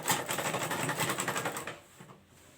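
A sewing machine stitches a straight seam on a small fabric traveling bag, a rapid rhythmic chatter for about a second and a half that then stops, leaving a quiet room.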